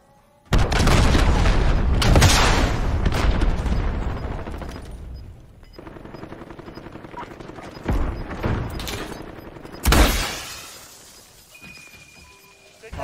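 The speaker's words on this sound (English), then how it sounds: "Allied cruise missile away." An allied cruise missile strike in a video game shooter: heavy booming explosions with shattering debris, a long loud blast at first, then scattered smaller impacts and another sharp blast later.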